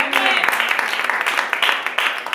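Church congregation applauding together, a dense, steady wash of clapping lasting a couple of seconds with a faint voice underneath.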